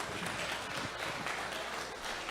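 Steady, faint applause from a crowd at an anglers' welcome reception, a dense wash of clapping hands heard from a distance.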